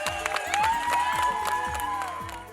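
Crowd noise at the New York Marathon 2023, with spectators cheering and clapping for Kenyan runners while a loud horn-like tone and rhythmic beat sound over the mix, plus voices in the crowd.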